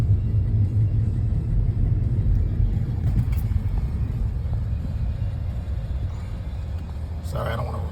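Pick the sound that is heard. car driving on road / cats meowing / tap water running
car driving on road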